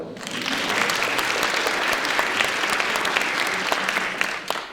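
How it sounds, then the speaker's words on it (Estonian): A school audience applauds at a Christmas concert at Rakvere State Gymnasium, a thick, even wash of many hands clapping at close range. The applause holds steady for several seconds, then thins out toward the end. "Aplaus neile."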